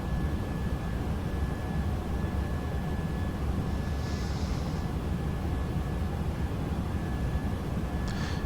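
A Boeing 737-700 in X-Plane 11 climbs out after takeoff, its engines a steady, even broadband roar that holds level throughout with no change in rhythm.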